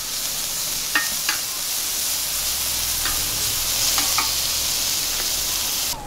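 Onions sizzle steadily in a hot pan at a campsite, a constant loud hiss broken by a few light clicks of a utensil stirring.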